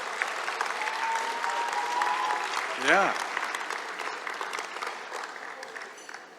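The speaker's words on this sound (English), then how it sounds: "Ladies and gentlemen, another round of applause." Audience applause at a scholarship awards ceremony, a dense sustained clapping from a crowd that gradually fades, with a short spoken word and a brief whistle-like tone in the middle.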